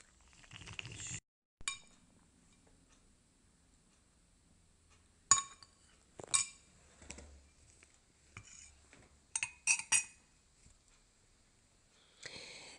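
Butter stirred into warm cream in a bowl produces sparse, quiet clinks of a utensil against the bowl, scattered in short taps with near silence between them.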